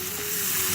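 Canned tomatoes fry in a pan with ginger garlic paste for an Indian chicken curry, giving a brief, steady, close sizzle.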